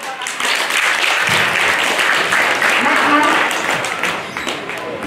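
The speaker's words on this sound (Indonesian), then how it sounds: "Tepuk tangan." Audience applause at a human rights festival in an urban village in Semarang, Indonesia, a dense wash of clapping lasting several seconds with voices talking over it and fading toward the end.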